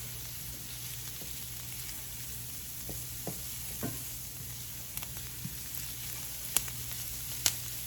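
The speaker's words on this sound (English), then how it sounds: "Get those vegetables sauteed in there." Garlic and vegetables sautéing in a pan for pineapple bowls, a soft steady sizzle with occasional light clicks and scrapes of stirring, no voices.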